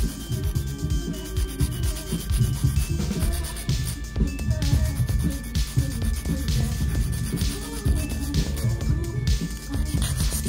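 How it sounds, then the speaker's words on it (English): A gel nail is filed with a nail file in a steady series of close, rapid back-and-forth rubbing strokes that continue for the full length. "Let us file that three edge, nice and square."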